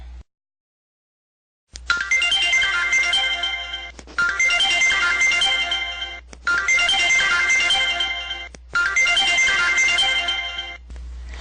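Telephone ringing in repeated bursts, four long electronic trills separated by short pauses after a moment of silence, clear and close with no voices.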